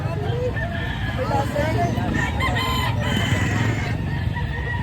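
Several roosters crow and cluck amid a noisy crowd of people talking at a chicken livestock market in Lipa, Batangas, Philippines, a busy outdoor animal-market bustle.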